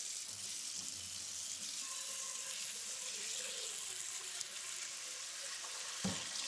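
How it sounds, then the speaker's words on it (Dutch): Cold tap water runs steadily from a kitchen faucet into a bowl, a continuous hissing rush that holds even throughout, with a brief clatter near the end. "een kom met heel koud water pakken. Of een pan, kan ook. En echt even het koudste wat je in de kraan hebt."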